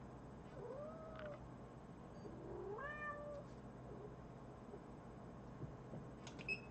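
A house cat meows a few times indoors, two drawn-out rising calls close to the listener, fairly faint over a low room hum with no talking.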